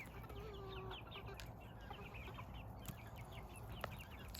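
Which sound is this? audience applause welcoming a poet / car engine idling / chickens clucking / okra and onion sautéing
chickens clucking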